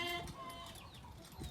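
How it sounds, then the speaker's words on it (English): Blue hens clucking close by on a small farm, a few soft short clucks over light background noise. "So there's some of the blue hens that we raised."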